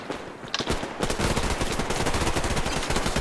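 Rapid automatic gunfire in the online shooter Survarium, a loud, tightly spaced stream of close shots that starts after a brief quieter moment and continues steadily to the end.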